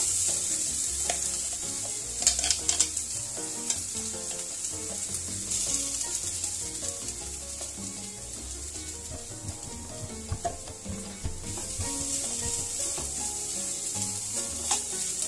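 Almonds frying in hot ghee for badam halwa, stirred continuously over low heat: a steady bright sizzle with repeated scraping and stirring strokes, close and fairly loud, no talk.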